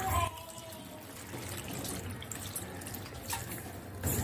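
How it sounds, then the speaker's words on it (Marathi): Cold water poured over boiled pasta in a colander; a steady, fairly quiet stream of running, splashing water with light dripping, close by and without talk. "आता यावरती थंड पाणी टाकायचं आहे"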